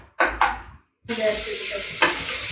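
Onions fry in a pan for crispy corn, with two quick stirring scrapes, a brief gap, then a loud steady sizzle close up and another stir near the end.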